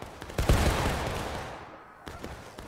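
A musket volley in War of Rights, one loud ragged burst of many shots fired together that rolls away into a fading rumble, followed by faint scattered pops.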